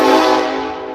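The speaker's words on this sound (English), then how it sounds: "The train sounded on that" A train horn sounds one loud, rich, harmonic blast up close, holding briefly before tapering off.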